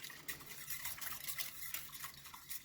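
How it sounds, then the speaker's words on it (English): A hand whisk works through melting Gouda cheese for fondue in a pot, making a quiet, rhythmic wet swishing and scraping that continues without pause. "I'm using my whisk, my hand whisk, and we're just going to melt down this cheese"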